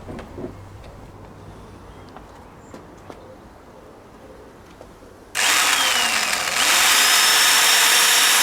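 A hand drill, with cutting fluid, bores out a hole to 5.5 mm in a part from a 2-litre AC engine. The drilling starts about midway as a loud, steady, bright whir that keeps going to the end, after quiet ambient room noise.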